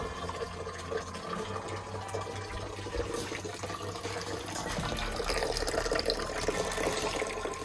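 Water runs steadily out of a nipple drinking pipe being flushed in a rabbit hutch, a continuous mid-level splashing flow that grows slightly louder toward the end.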